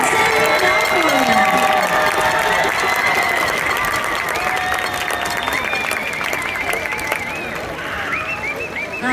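A stadium crowd applauds and cheers for the James Logan High School marching band and color guard, a loud sustained roar of clapping with whistles and shouts, while an announcer speaks over the noise.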